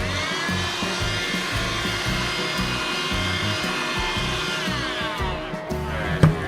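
A small battery-powered Bissell pet hair vacuum running on rechargeable NiMH AA batteries, a steady close motor whine with a faint rising pitch and slight rattling, ending in a brief bump.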